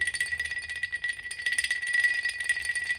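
A restored antique crotal bell is shaken, giving a bright, continuous metallic jingle with quick rattling pulses and a clear ringing tone, heard alone and close.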